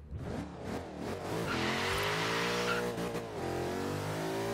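A Range Rover drag truck in Forza Horizon 3 accelerates hard, its engine climbing through rising revs with a gear change midway and a brief tire squeal, loud and close throughout with no talking.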